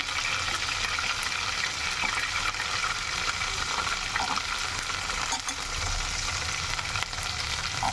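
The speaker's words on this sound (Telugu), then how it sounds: "అల్లం వెల్లుల్లి పేస్ట్ కూడా బాగా ఫ్రై అయిపోయింది" Ginger garlic paste frying in a hot pan for chicken curry, with salt and turmeric added: a steady, close sizzle with faint stirring scrapes, continuous and alone without voices.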